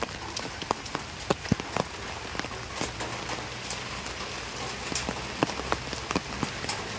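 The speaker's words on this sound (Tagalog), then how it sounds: "Hanggang ngayon, hindi pa rin tumitigil ang ulan." Heavy, steady rain falls during a flooding downpour, a quiet continuous patter with scattered louder drops striking a nearby surface; no talking.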